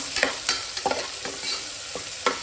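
Garlic frying in a pan for egg biryani makes a close, continuous sizzle broken by several sharp stirring scrapes spaced through the sound; no voices.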